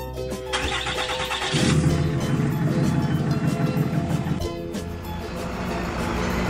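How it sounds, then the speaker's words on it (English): A truck engine starts and runs at a steady mid-pitched rumble. A burst of hiss is heard early on, and the engine noise swells and then levels off and continues. "Truck."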